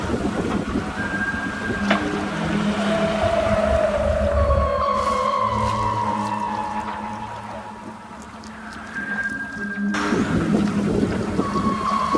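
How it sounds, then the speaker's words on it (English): Whales call near a racing sailboat approaching Cape Town during the Vendée Globe, long rising and falling moans and whistles sounding over steady wind and rushing water. "I'm escorted by whales."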